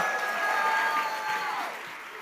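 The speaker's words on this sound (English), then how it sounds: "Can we please give another huge round of applause for everyone who worked their tails off to put this together?" A conference audience gives a sustained round of applause with some faint cheering mixed in, the clapping steady and full before easing off toward the end.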